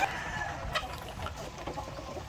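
Blue Orpington chickens on a farm cluck softly in the distance over steady background noise, with a few faint scattered calls and no talking.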